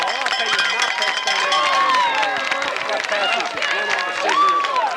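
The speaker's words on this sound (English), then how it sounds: "Let's put the microphone down on the crowd." Crowd of fans in the stands at a 1989 high school football game between Scarsdale and Roosevelt, a steady roar of cheering and clapping with whistles and shouts, heard fairly close and continuous.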